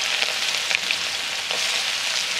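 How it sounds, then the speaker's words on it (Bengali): Whole cumin seeds and finely chopped onion sizzle steadily in leftover fish oil from katla fish heads. The frying is loud and continuous with crackling spits throughout and no voices. "ওই মাছের তেলেই আমি গোটা জিরে দিয়ে দিচ্ছি, আর কেটে রাখা ছোট ছোট করে পেঁয়াজ দিচ্ছি"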